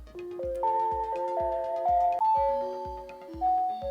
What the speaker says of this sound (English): You've also got some very chill ringtones, notifications, alarms, etc.